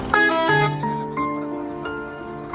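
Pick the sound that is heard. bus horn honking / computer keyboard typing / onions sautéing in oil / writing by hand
bus horn honking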